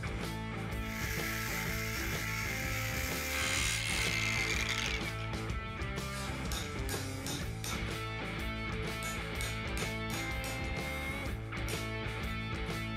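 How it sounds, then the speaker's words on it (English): A power tool grinds and cuts through a steel pipe near a weld at close range, steadily, with a harsh, bright screech early on and a repetitive mechanical chatter throughout. "I'll cut the segment from the pipe near the weld."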